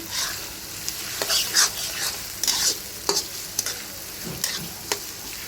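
Local garlic cloves fry in hot oil and are stirred in a pan. A close, bright sizzle swells with each stroke, and sharp utensil scrapes and taps come at irregular intervals. No voices are heard.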